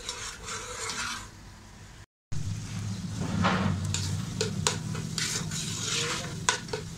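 Masala fries in oil for an arvi curry, a soft sizzle under repeated scraping stirs of a spoon against the pan, with a brief dropout and then louder frying and clinks.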